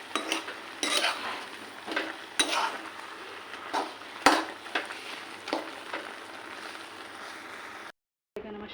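Taro leaves, softened and cooked, are stirred in a pan with a utensil, giving irregular scraping clinks and soft clatter over a faint sizzle, ending with a short silent gap.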